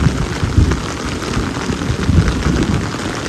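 Steady rain falling close by on a village, a dense hiss of drops pattering on surfaces with low rumbling undertones, continuous and fairly loud, no voices.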